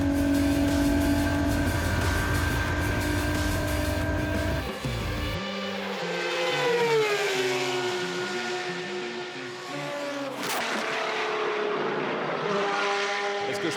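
A classic racing car at Spa-Francorchamps climbs through Raidillon, its engine loud and close, dropping abruptly then rising again in a long accelerating pitch sweep, with a second gear change near the end.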